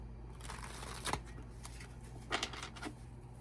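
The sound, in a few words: shuffling cards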